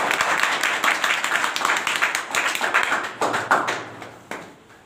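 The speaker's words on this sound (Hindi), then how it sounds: "तो इस बच्चे के लिए ताली बजाएं" Audience clapping at a coaching centre prize distribution as a first-prize student comes up, a dense, steady burst of many hands that thins toward the end.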